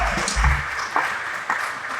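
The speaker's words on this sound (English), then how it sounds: "not everyone was clapping" Scattered audience clapping at a jazz concert on an outdoor pavilion stage, thin and uneven, with a few louder claps standing out over a soft background hum.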